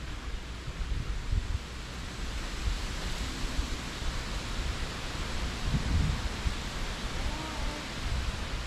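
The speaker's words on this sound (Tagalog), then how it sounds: "lakas ng hangin" Strong wind gusts blow across the outdoor grounds of a resort in Bongabon, Nueva Ecija, giving a constant broad rushing roar with a few buffeting thumps on the microphone and no clear talk.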